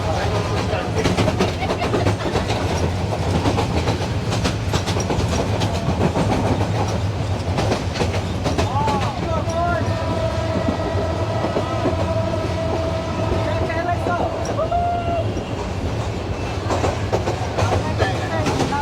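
A Bangladeshi local commuter train rolls along the rails, a loud continuous rumble with rhythmic wheel clatter and a long tonal squeal or horn-like whine partway through, heard from inside near the crowded doorway.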